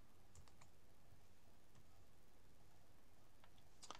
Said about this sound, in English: So press C for the crop tool.